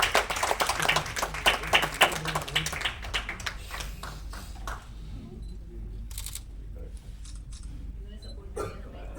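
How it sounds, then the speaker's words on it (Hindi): Audience at an Indian artist association award function claps for an honoree, with dense applause in the first few seconds thinning to scattered individual claps, under background chatter. "एक बार जोरदार तालियां हो जाए हरवंश सर के लिए"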